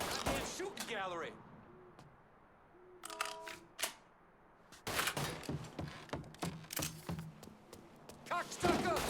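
Gunfire in the Mafia 3 video game on PS4 cracks out as a quick run of sharp, close shots after a brief lull, with shouted voices heard between and around the bursts.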